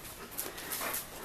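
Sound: Husky dog panting

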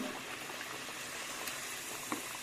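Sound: vadas (urad and wheat flour fritters) frying in hot oil

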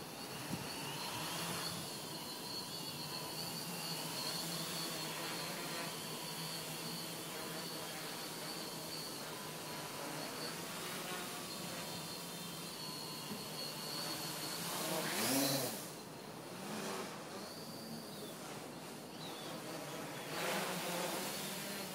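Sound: Armattan 369 drone flying outdoors

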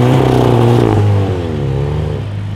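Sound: VW Golf 8 engine revving against the rev limiter

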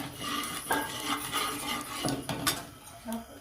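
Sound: mustard seeds spluttering in hot oil while tempering

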